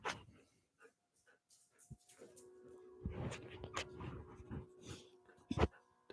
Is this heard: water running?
no